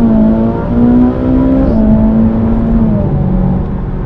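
A car on a rain-soaked UK road accelerates hard to overtake on the way to a supercar show, its engine a loud, steady whirring drone with a tone that climbs and shifts.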